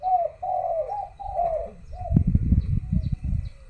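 A spotted dove coos around midday in a rhythmic series of four low, rolling notes, close and clear, followed by rustling and soft knocking noises.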